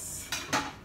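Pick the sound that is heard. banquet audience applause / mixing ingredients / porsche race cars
mixing ingredients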